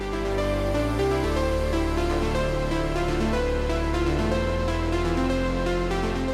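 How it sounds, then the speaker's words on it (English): Synth lead near the end of a breakdown in an electronic song, dense and sustained over a thick, continuous bed of layered tones, loud and full without pauses, sounding more intense than a sparse version. "Now listen to the same lead, but now by the end of the breakdown."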